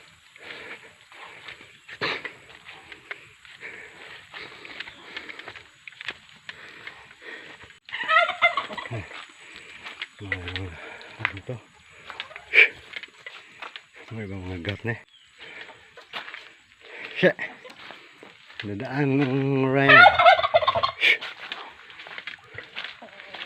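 Turkeys gobble in several warbling bursts over a noisy outdoor background in a coconut plantation, with the loudest calls coming near the end.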